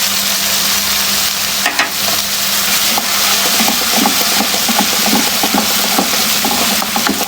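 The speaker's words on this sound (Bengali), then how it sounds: "পেঁয়াজ বাটা নেড়ে চেড়ে একদম ভেজে নেব।" Onion paste with ginger, garlic and cumin paste fries in a pan for a rupchanda (pomfret) fish curry. A loud, continuous close sizzle runs throughout, broken by repeated soft scraping stirs.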